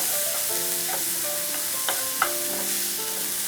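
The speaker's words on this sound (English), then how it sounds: "We'll add finely chopped tomatoes, finely chopped capsicum and saute on a medium flame for 1 minute." Finely chopped tomatoes and capsicum sauté in a pan over a medium flame, a steady close sizzle broken by a few scraping stirs and soft clinks, with no talking.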